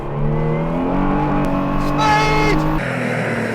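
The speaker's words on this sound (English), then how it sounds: "That is a 770 horsepower Praga Bohema." A 770-horsepower Praga Bohema hypercar engine revving loud and close, its rising whine climbing in pitch before cutting off, with a brief voice over the roar.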